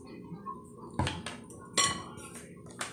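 Leftover pulled pork roast being mixed with barbecue sauce, a spoon scraping and clinking against the bowl or pan in a few distinct bursts over low, quiet background.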